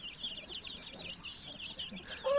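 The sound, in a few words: chicken clucking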